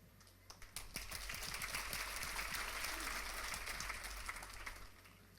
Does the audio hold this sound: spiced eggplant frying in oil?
no